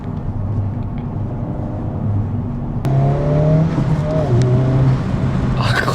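Turbocharged engine of a Honda Civic Type R FL5 accelerating, a rising engine note that climbs through gears with a shift around midway, close and loud, ending in a few sharp pops and crackles.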